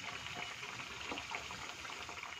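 A methi aloo snack frying in a pan of oil, a steady soft bubbling and sizzling that holds even throughout, faint and without talking.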